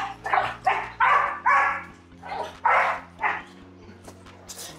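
Several dogs bark loudly and close inside a kennel where a young Rottweiler is kept, in repeated bursts with short gaps, with a low steady hum underneath.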